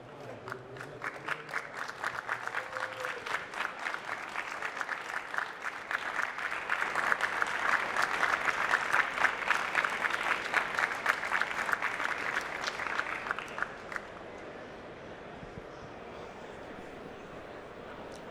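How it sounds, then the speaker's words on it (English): Sustained applause from a large event audience celebrating the 2012 World Magic Cup champions, dense clapping swelling over about fourteen seconds before thinning out to a quieter room hum. "big round of applause for the 2012 World Magic Cup champions from Chinese Taipei"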